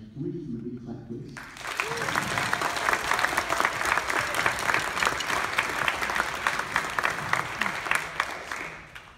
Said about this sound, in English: So can we give him a big clap, please?